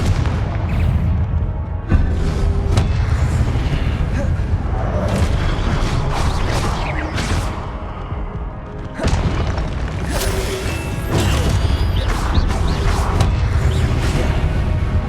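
Repeated Confringo fire-spell blasts in the Hogwarts Legacy video game, a dense, loud barrage of booming explosions and crashes continuing throughout without pause.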